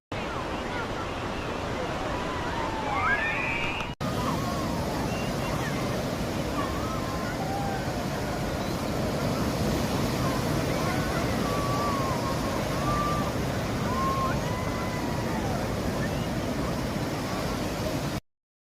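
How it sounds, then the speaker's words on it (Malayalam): Strong sea waves surge and break at Swinquerim beach in Goa, a steady broadband roar of surf mixed with wind buffeting the microphone, continuous and loud throughout with faint distant voices beneath. "ഈ കാണുന്നതാണ് സ്വിൻക്വരീം ബീച്ച് അവിടെയും ധാരാളം സഞ്ചാരികൾ ശക്തമായ തിരമാലകളെ ഒരു പേടിയുമില്ലാതെ കളിച്ചുല്ലസിക്കുന്നു"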